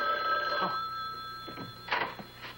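Old landline telephone bell ringing indoors in a 1970s home, two or three bright trilling rings with pauses between, moderately loud and close, with faint movement noise in the background.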